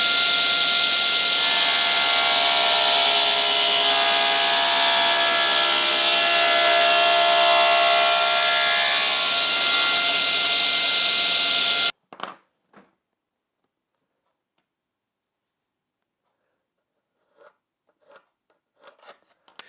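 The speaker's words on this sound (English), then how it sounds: "for this cut I'm going to be pulling it through the saw because this is the safest place to be" A table saw cutting an angle in a piece of wood guided by a miter gauge: a loud, steady whine and rasp for about twelve seconds that stops abruptly, followed by near silence with a few faint taps.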